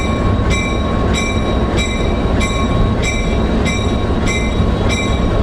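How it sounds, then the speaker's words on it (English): Scenic railroad train during a running brake test, a steady loud rolling rumble with regular rail clicks and faint high brake squeal tones recurring about every 0.6 seconds, no voices. "Right now we're doing a running brake test to make sure that the brakes work."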